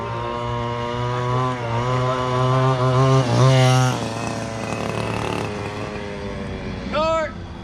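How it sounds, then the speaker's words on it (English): A nearby car engine drones and revs, its pitch rising and falling as it passes, with another brief whining rev near the end. "There's a car behind Derek."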